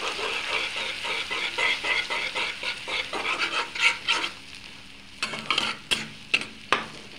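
Two eggs frying and being stirred in a pan of oil, a steady sizzle broken by rhythmic scraping strokes, then quieter sizzling with a few sharp clinks of the utensil near the end.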